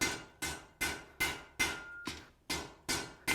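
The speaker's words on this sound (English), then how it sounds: "we're going to take our hammer and we're going to draw us out a point on this" Eight evenly spaced hammer blows ring out on hot steel on an anvil while drawing out a point for a shepherd's hook, each strike sharp and bright with a short metallic decay, close up and alone.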